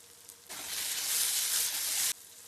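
Corn roasts in a hot pan, giving one short, loud burst of sizzling hiss lasting under two seconds, then cutting back to quiet.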